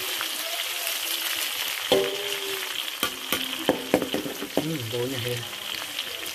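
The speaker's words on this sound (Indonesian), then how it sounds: "Bawang bombay saya masak." Sliced onions frying in a pan for a village-style octopus dish, a steady close sizzle with scattered stirring clatters and scrapes, while a voice talks briefly over it.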